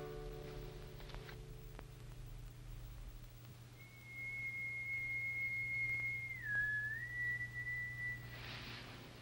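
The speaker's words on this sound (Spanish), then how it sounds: "Fue el silbido del guía." A single sustained whistle from a guide, clear and fairly close, holding a steady pitch for several seconds with a brief dip before leveling off, over a low background hum.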